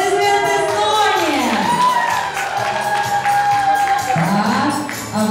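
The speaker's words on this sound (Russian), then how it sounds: "Соня, аплодисменты Соне." Audience applauding and cheering for a child performer named Sonya at a children's show, a sustained loud crowd noise with shouts and voices mixed in throughout.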